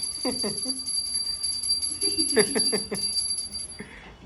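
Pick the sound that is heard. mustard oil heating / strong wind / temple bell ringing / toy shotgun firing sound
temple bell ringing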